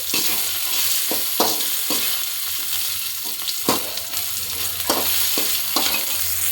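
Byadagi chillies fry in hot oil in a pan for a red chutney, giving a steady, close sizzle broken by repeated stirring scrapes, with no talking.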